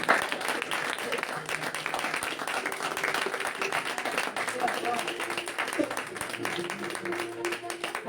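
A church congregation applauds and cheers during a French-language service, with sustained dense clapping and crowd noise throughout and voices and some tonal sound blended underneath.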